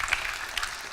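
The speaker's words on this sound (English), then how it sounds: "I love that you're cheering maths." A conference audience cheers and applauds after a talk segment, a dense, steady wash of clapping and whoops filling the whole moment with a few brighter peaks, loud and close throughout.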